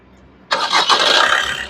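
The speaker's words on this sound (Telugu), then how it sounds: "సింగిల్ సెల్ఫ్ కార్ స్టార్ట్ అయితే ఎటువంటి స్టార్టింగ్ ట్రబుల్ అయితే లేదండి" A 2016 Maruti Suzuki Ciaz ZDI+ diesel engine cranks and catches on a single try, roaring up loudly and then holding a steady, close run.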